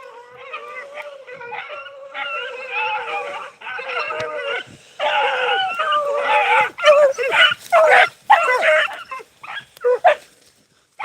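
A hunting dog chasing a rabbit bays and howls in long, tonal bursts that break into choppy, rapid yelps toward the end, fairly close and clear over a quiet outdoor background.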